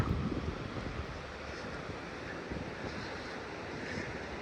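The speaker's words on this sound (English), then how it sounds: "So there's the river right there" A river in the eastern Sierra near the Nevada line rushes steadily, a broad continuous wash of water noise with wind buffeting the microphone, no voices.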